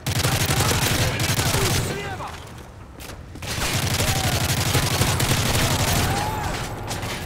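Hipfire gunfire in Modern Warfare 3 Spec Ops, dense, loud automatic bursts with a short lull in the middle, then steady rapid fire resuming under game noise.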